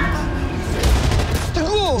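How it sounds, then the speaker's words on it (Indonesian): Gunfire breaks out during a hostage scene in a hotel in a drama trailer, a burst of shots that booms over a voice, followed by sweeping, whooshing sound effects. "Dia lepaskan tembakan."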